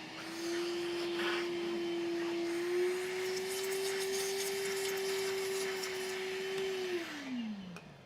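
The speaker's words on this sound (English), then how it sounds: "We'll vacuum it out real quick." A vacuum cleaner drones steadily and loud for several seconds while clearing metallic debris from an electron microscope's DC power supply cabinet, its motor pitch holding level before winding down at the end.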